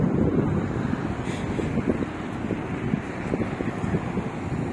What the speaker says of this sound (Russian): Чуть-чуть ветер, чуть-чуть.